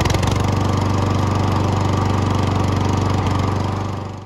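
A Honda HRX 217 lawn mower engine runs steadily at a loud, even idle with a pulsing low drone, close by and without voices, easing off slightly at the end.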